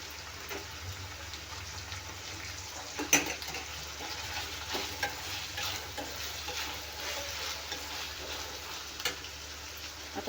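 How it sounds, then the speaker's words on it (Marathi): Green beans frying in oil with onion in a pan, a steady close sizzle with soft scraping and stirring knocks throughout, no talking. "आता शेंगा पण आपल्याला छान तेला आणि कांद्यासोबतच भाजून घ्यायचे आहेत म्हणजे लवकर नरम होतील"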